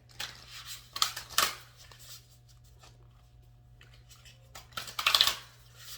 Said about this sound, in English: I'm just trying to give it a good shuffle.